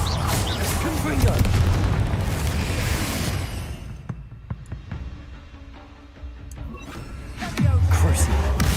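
Explosion from the Confringo spell in Hogwarts Legacy, a loud booming blast that fades into quieter ambience, with another heavy impact near the end.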